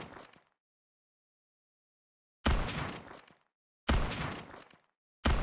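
Three loud single gunshots from a first-person indie shooter still in development, each a sharp close crack with a short decaying tail and long silent gaps between them.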